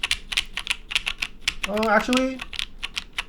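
Keystrokes on a Type-K prototype mechanical keyboard, a quick run of crisp clacks that pauses briefly while a voice speaks over the middle, then resumes.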